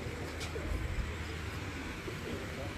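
Pigeons kept in pairs coo softly on a rooftop in Multan, low murmuring calls blending into steady background noise and faint voices.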